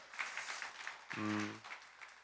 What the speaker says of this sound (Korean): 네 분의 전문가 패널 분들께 박수 한번 부탁드릴까요?